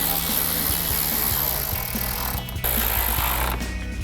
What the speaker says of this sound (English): We're gonna install them with a 7mm socket.